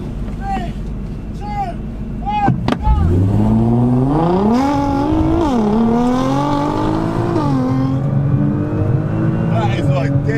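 Nissan GT-R race cars, one a stage 4.25 tune, run side by side on a racetrack. A loud engine revs and accelerates, its pitch climbing and dropping through several gear shifts.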